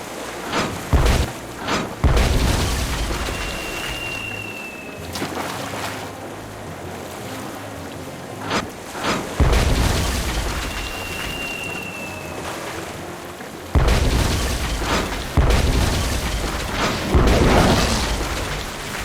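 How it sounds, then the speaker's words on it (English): Cannon fire from the pirate adventure game Tales of Monkey Island: heavy booming blasts, roughly three distinct shots spaced several seconds apart, each followed by rumbling over a continuous bed of ocean waves and wind. "It is for me to shoot the cannon"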